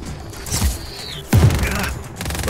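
Gunfire and explosive bursts in the open-world action game Just Cause 4, with sharp blasts standing out over a busy layered battle soundscape and a whistling projectile sweep, no talking.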